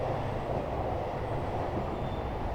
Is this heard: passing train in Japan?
yes